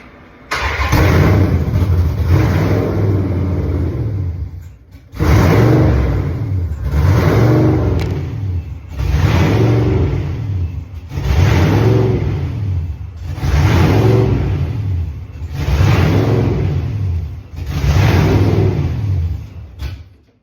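Built Hellcat Charger with a supercharged engine revving hard in repeated bursts, about seven loud blips with brief drops between them, close and continuous with no talking.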